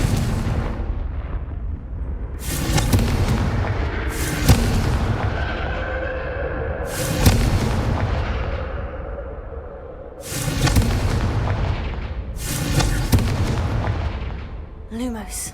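Booming spell blasts from Bombarda and Confringo casting in Hogwarts Legacy, five or six loud, heavy explosions spaced a few seconds apart, each with a sharp attack and rumbling decay over a continuous low background.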